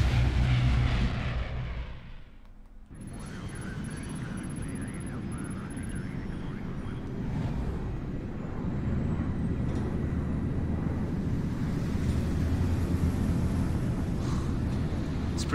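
A steady, full engine drone fills the cabin of a plane in the game Splinter Cell: Blacklist. It starts after a brief dip near the beginning and holds as a constant low rumble with a faint whine above it, with no talking.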